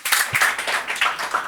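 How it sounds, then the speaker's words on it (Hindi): Audience clapping during an interview with a Bollywood playback singer, a brief burst of dense, close applause with scattered sharp claps. "तालियां बजाइए"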